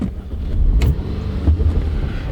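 A high-mileage Audi with 211,000 miles cranks and fires up close by, a brief starter burst settling into a low idling rumble.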